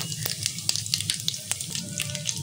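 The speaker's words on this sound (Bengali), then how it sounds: "এরপর ফোড়নটা দিয়ে দেবো কালো জিরে, শুকনো লঙ্কা আর তেজপাতা।" Nigella seeds, dried red chili and bay leaf tempering in hot oil in a kadai for a taro-stolon (kochur loti) dish, giving a close, steady sizzle dotted with sharp spitting crackles throughout, with no talking.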